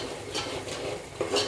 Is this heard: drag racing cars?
no